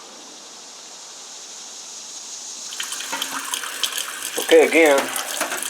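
Warm water runs from a tap to clean a black powder cowboy gun, a steady splashing rush that grows louder partway through, with a voice speaking briefly over it.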